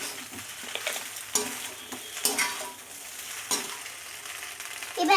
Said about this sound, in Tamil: இப்போ நம்ம சாஸ் ஊற்றிடலாம்.